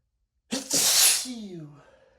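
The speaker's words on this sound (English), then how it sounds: "I'm gonna sneeze again." A single exaggerated cartoon-style sneeze voiced by a man, bursting loud and close with a breathy, hissy blast and trailing off in a descending vocal tail.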